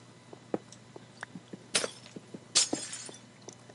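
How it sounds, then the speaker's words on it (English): Glass shatters in a Minecraft-style game, two sharp breaking crashes about a second apart, with small clicks and taps around them. "I haven't broken open the glass yet."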